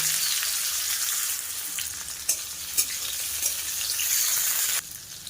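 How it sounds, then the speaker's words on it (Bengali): Steady, close sizzling of bitter gourd frying in hot oil, with a few sharp pops and crackles breaking through. "তেল গরম হয়ে গেছে এবারে প্রথমে উচ্ছেগুলোকে দিয়ে দেব"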